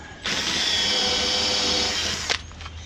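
A power drill with a Forstner bit bores into metal, whining steadily for about two seconds, loud and close, then winds down with a brief clatter.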